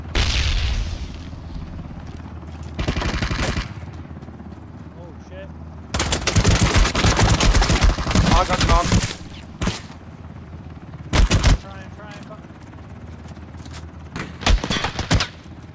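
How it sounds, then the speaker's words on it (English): Ring of Elysium video game battle with bursts of rapid gunfire and booming grenade blasts, loud and dense in places with quieter gaps between volleys. "Someone is throwing grenades at me."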